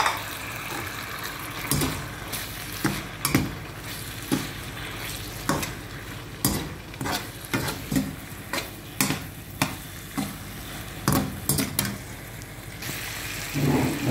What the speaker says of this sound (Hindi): अब जो हमने मैक्रोनी बॉईल की हुई थी वो हमने डाल देनी